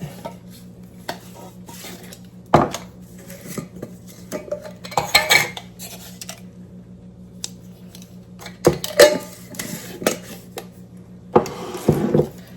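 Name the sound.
mixing baking ingredients in a bowl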